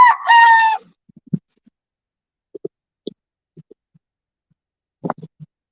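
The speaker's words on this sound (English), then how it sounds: "Y'all hear the roosters crowing?" A rooster crows once, loud and close, at dawn outside an open door. Faint scattered clucks and small knocks follow in near silence.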